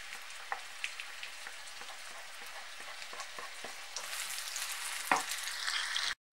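Chopped onion and garlic fry in a pan with a soft, steady crackle and scattered pops. The sizzle grows louder partway through, and one sharp clink of a utensil is heard near the end.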